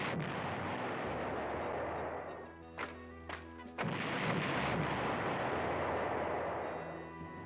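Artillery fire in the PlayStation 1 war game Panzer General, a few sharp booming reports ringing out over a steady low rumble of game sound, with no talking.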